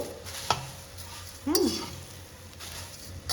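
Ragi masala poha being stirred into a spiced tempering in a pan, with a faint sizzle and a couple of scraping strokes of a spoon against the metal, one sharper clink near the start.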